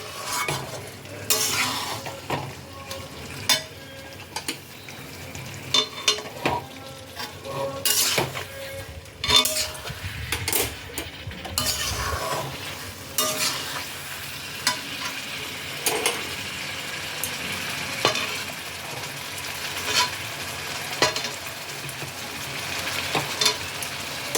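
Jackfruit, prawns and potato are stirred with spices in a pan: a low sizzle runs under irregular metal scrapes and clinks of a utensil against the pan, close and steady for a long stretch, with no voices.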